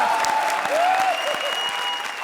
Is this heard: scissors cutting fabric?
no